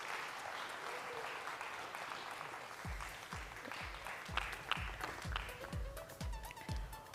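An audience at an Expo 2020 Dubai food event applauds, a steady wash of clapping that carries on while low rhythmic thumps, like footsteps or a beat, join in partway through.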